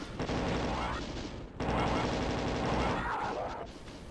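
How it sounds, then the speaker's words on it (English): Plasma rifle fire in Doom II comes as a rapid stream of buzzing energy bursts, loud and continuous with a short break midway, game sound only with no talk over it. "Just gonna melt this fucker with the plasma rifle."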